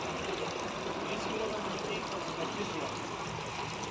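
A water fountain at the Sultan Garden Centre splashes in a constant, even hiss of falling water, moderately close and unbroken, with faint voices blended into the background.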